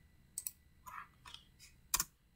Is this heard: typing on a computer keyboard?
yes